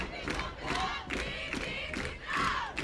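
A football crowd in the stands at an Attica versus Batavia high school game, with cheerleaders leading chants, gives rhythmic bursts of shouting and cheering, several swells rising and falling across a few seconds.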